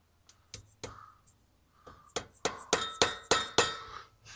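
A mallet strikes an easy out while working on a dead Poulan mower, sounding as a series of about ten sharp, close metallic blows that come faster and louder toward the end.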